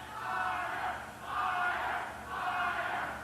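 Crowd cheering at a fight right after a knockout, a loud mass of voices swelling in three broad waves, each rising and falling over about a second.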